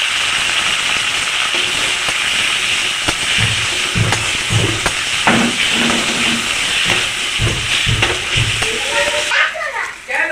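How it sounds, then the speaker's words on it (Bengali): Onion paste fries in a pan with a loud, continuous hiss and sputter, and irregular stirring clatters rise and fall before a quieter tail at the end. "এবার বাটা পেঁয়াজটাও দিয়ে দেবো"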